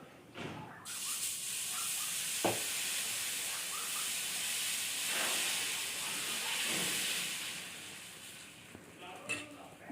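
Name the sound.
dosa batter sizzling on hot griddle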